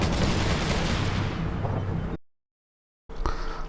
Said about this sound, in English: I've got some tank fire coming down onto that building over there